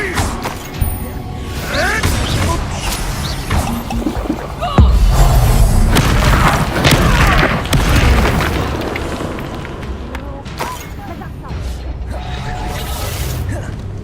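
Incendio fire spell blasting in a Hogwarts video game amid a chaotic duel, with a heavy whooshing boom and rumbling bursts over constant combat effects and shouted incantations.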